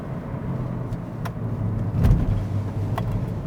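A Hyundai Ioniq hybrid with a dual-clutch gearbox accelerates under a steady low engine and road drone, with a slight swell around the middle as it shifts, heard from inside the cabin with no talk.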